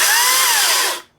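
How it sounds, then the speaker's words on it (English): A battery-powered chainsaw cuts wood: a loud, steady high-pitched motor whine held for about a second, then quickly dying away as the cut ends. "and now I'm cutting wood."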